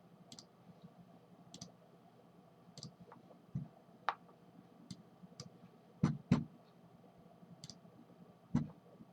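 A computer mouse clicking in sharp, sparse single clicks at irregular intervals, close and fairly faint over a quiet room hum, with no talk.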